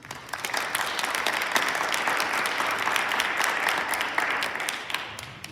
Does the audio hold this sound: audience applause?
yes